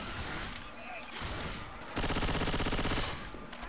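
Gunfire against zombies in Left 4 Dead 2: a loud, steady burst of rapid shots lasting about a second stands out in the middle, with quieter game noise and scattered shots around it.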